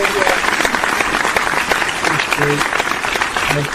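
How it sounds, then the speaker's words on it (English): Small group applauding a podcast guest, brisk close clapping that continues for a few seconds while voices talk over it. "So give the man a big round of applause."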